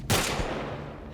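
A single sharp rifle shot in the video game The Last of Us Part 1 cracks out loud and close, then a long reverberating tail rolls away.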